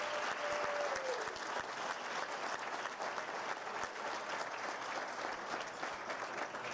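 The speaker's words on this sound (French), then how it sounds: "on va leur donner une bonne main d'applaudissements" Dinner guests give sustained applause for event partners, a dense, even wall of clapping from a large audience that holds steady throughout without a break.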